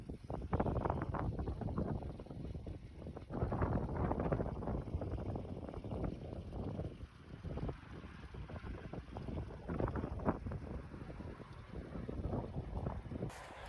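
Wind buffets the microphone in a pasture with continuous low rumbling gusts that rise and fall, loud and close, with no speech.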